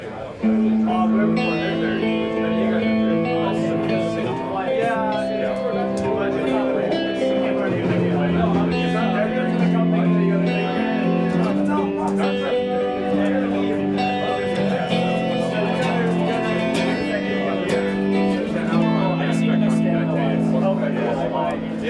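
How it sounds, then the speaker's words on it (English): Clean electric guitar through a compressor, chorus, delay and reverb playing a flowing melodic passage, shimmering and spacious with echoing repeats and lingering ambience, steady and moderately loud throughout. "I've got a compressor in front of here, a little bit of delay and reverb, and a chorus."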